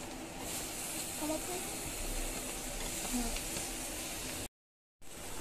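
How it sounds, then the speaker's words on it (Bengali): Tomatoes going into a pan of frying onions and chilli for potato curry, with a steady close sizzle and hiss throughout that cuts out briefly near the end. "এই যে পেঁয়াজটা হয়ে গেছে, এখন আমি দিয়ে দেব টমেটো।"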